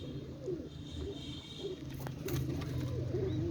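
Pigeons at a Pakistani pigeon club coo in soft, repeated rolling calls close by, several birds overlapping against a low hum of background noise.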